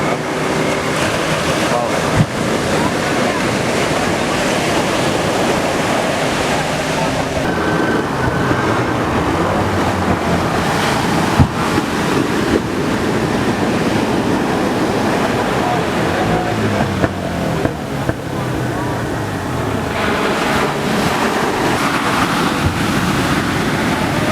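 Arabian Sea surf at Pozhiyoor beach roars in a loud, continuous wash of breaking waves, with heavy wind buffeting the microphone and faint voices partly buried beneath it.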